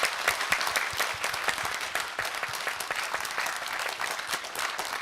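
Steady applause from a concert audience, many hands clapping densely and continuously at an even level for the whole stretch.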